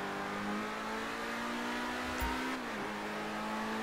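A car accelerating in GTA 5, its engine holding a steady drone that climbs slightly in pitch, then dips briefly as it shifts before settling again, heard alone.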